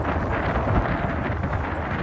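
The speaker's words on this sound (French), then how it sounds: "Avec vent de travers, vent de face." A strong crosswind and headwind buffet the microphone while cycling gravel roads across Morocco, making a loud, constant low roar with no pauses.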